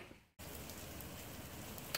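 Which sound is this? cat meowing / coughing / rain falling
rain falling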